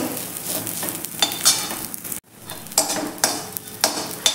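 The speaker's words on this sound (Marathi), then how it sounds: "आता आपले तांदूळ छान असे भाजून होत आलेले आहे" Rice being dry-roasted and stirred in a pan for kheer, with repeated rhythmic scraping strokes over a soft sizzle and a brief silent gap midway before the stirring resumes.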